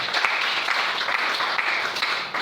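Church congregation applauding together, a steady broadband wash of many hands clapping that holds at an even level throughout, with no speech over it.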